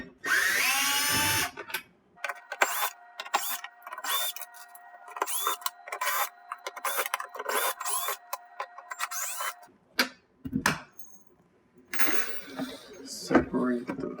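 A power drill spins out Torx screws around the perimeter of a KitchenAid dishwasher door, with a whining motor burst followed by clicks, clatters and brief pauses, and a nearby voice.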